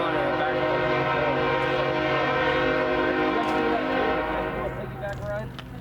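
CSX locomotives making a light engine move back to the yard: a loud, sustained train horn chord held for several seconds over rumbling diesel engines, fading into rail noise near the end.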